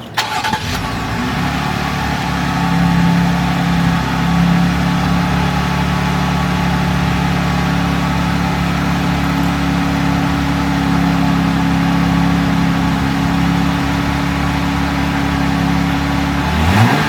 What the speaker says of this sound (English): Time for an engine sound check.